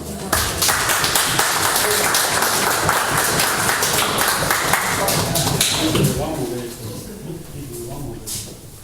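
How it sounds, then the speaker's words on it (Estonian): Applause from the audience at an Estonian meeting, called for a birthday guest: a sustained burst of clapping lasting several seconds, with voices over it, that fades toward the end. "Palun suurt aplausi."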